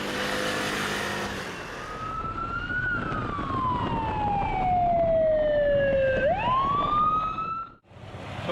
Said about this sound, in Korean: 경찰이 교통법규를 위반한 이륜차를 발견하자 사이렌을 울리며 쫓아갑니다.